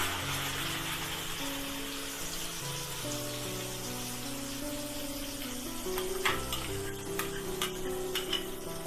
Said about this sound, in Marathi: पेस्ट ना चांगली भाजून घ्यायची, तिला ना तेल सुटलं पाहिजे।